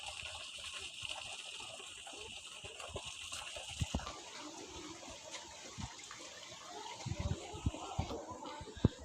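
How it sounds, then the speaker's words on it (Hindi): A small waterfall flows in the Rock Garden in Chandigarh, a faint, steady rush of water with scattered splashes and occasional nearby knocks, no one speaking. "और ये छोटा सा झरना यहाँ पर बह रहा है।"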